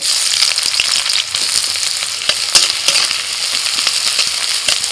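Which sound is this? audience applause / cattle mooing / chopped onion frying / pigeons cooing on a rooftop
chopped onion frying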